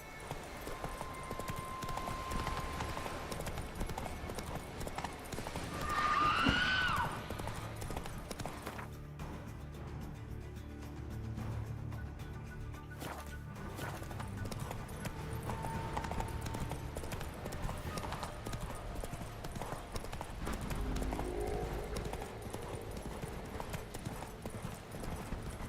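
Horse hooves clip-clopping along a path in The Witcher 3 video game, a steady close walking rhythm that runs throughout, with a brief whinny-like call and some game ambience.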